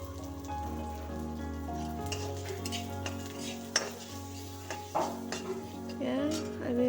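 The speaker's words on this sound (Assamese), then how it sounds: "আমাৰ ভাজা প্ৰায় কমপ্লিটেই। আৰু দি দিছোঁ 2 চামুচ হালধি।" Potatoes fry in a pan with turmeric, a steady sizzle running under intermittent scrapes and clinks from stirring, close and moderately loud, with a low hum beneath.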